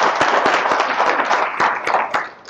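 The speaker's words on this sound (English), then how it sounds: "Give them a round of applause, please." Press-conference audience at the 2014 Battle on the Border event claps in a short, dense burst of hand claps, close and loud, tapering near the end.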